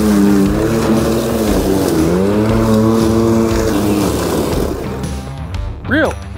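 A Milwaukee electric lawn mower runs with a strong steady motor whine that shifts pitch as it works through grass, loud and close, with a brief rising whir near the end.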